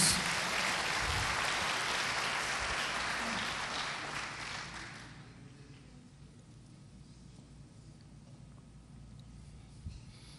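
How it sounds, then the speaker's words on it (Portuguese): A church congregation claps in a brief burst of applause that fades out after about five seconds, leaving a quiet room. "Dê uma salva de palmas a esse Deus maravilhoso."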